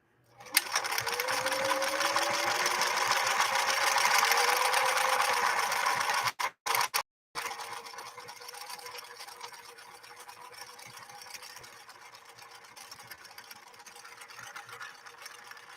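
A 1968 Singer Model 626 sewing machine runs a 3-point zigzag stitch with a close, steady mechanical whir. It stutters and stops briefly partway through, then resumes more quietly.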